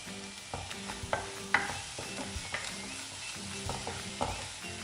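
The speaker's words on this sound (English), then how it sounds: "So fry this onion till it becomes nice and translucent." Onion frying on medium to low heat while a spoon stirs it in a pan, giving a soft continuous sizzle broken by regular scraping and clinking strokes, close and quiet with no speech.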